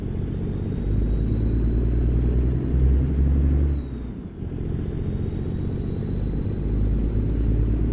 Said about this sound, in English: Definitely more engine growl and less turbo sound.